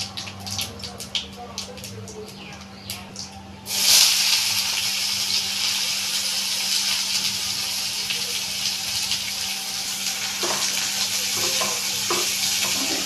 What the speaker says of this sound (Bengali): পেঁয়াজটা আমার লাল করে ভাজা হয়ে গেছে